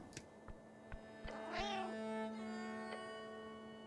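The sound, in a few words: cat meowing in video game Esoteric Ebb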